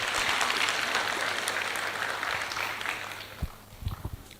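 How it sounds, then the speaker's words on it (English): An indoor audience at a Katsina State policy unveiling and graduation ceremony breaks into dense, steady applause that gradually thins out, ending in a few scattered claps. "another bigger round of applause to the DG Katsina"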